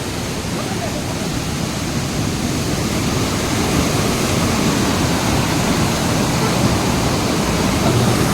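A waterfall at Mukundra tiger reserve rushes in a steady, loud, broadband roar that stays constant throughout without pause.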